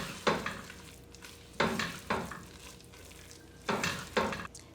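Fresh coriander being stirred into lamb bhuna in a pan: a few separate scraping sweeps of the spoon over a soft, steady sizzle, close up and moderately quiet.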